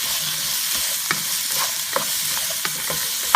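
Orange beef and vegetables stir-fry in a pan on the highest heat, giving a steady bright sizzle with occasional soft scraping and clicks of stirring, close and continuous without speech.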